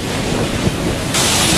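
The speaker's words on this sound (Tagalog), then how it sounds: "Delikadong lumabas dahil sa tindi ng hangin at ulan." Strong typhoon wind from Typhoon Yolanda in Ormoc, Leyte, roars as a loud, steady broadband rush that swells even louder near the end, with no voices.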